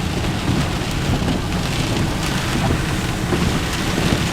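Heavy rain pours down during a thunderstorm, a loud, steady, dense wash of falling water that continues without a break and with no voices over it.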